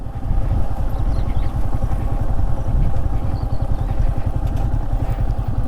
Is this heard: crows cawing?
no